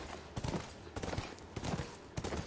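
Horse hooves clip-clop at a steady trot in the video game The Last of Us Part II, a run of close, repeated thuds over a constant background rumble.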